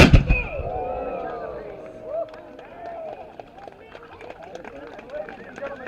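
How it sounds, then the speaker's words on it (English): A single loud boom from an early 1800s artillery cannon at a firing demonstration opens the sound, its echo decaying while people talk in the background. "that was but a very short flash course in artillery from the 18th century"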